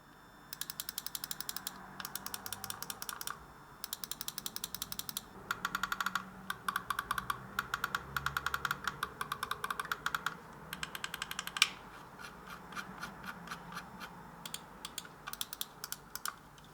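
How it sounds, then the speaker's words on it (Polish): Rapid bursts of sharp, crisp clicks from an AOC GM510 computer mouse button in quick repeated runs, separated by brief pauses, close and clear against a faint background hum. "Robimy jeszcze test klikania."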